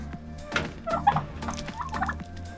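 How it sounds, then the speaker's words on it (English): Turkeys gobble in several quick, warbling bursts close by, over a low steady background hum. "Come on, turkeys."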